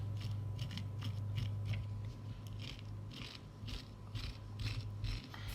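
A spoon scrapes the seeds out of a halved vegetable in a quiet, close series of short, repeated raspy strokes. No one speaks.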